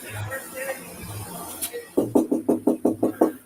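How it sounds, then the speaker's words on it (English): Firm knocks on a front door sound from a played recording, a quick series of about eight evenly spaced, loud raps after a quieter stretch of faint background murmur. "That was the knock on the front door."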